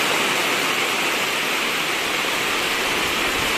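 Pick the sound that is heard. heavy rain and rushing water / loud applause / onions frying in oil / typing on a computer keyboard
heavy rain and rushing water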